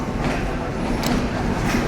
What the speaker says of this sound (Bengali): আমরা দেখতে পাচ্ছি যে আরেকটা ট্রেন যাচ্ছে